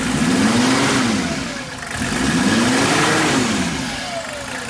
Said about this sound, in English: Isn't that turbo whistle fucking fantastic?